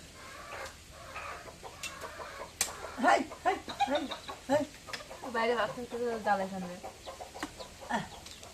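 Chickens cluck and call repeatedly at close range, with rising squawks and short bursts amid faint voices in the background, in a village.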